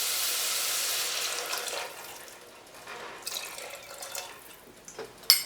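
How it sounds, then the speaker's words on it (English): Water poured into a pressure cooker of rajma masala on an Indian kitchen stove, a soft splashing stream that fades to quiet trickles and drips, ending with a light clink. "Now I'll add water to it."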